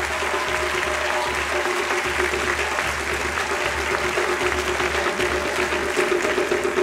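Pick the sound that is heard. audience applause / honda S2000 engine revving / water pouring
audience applause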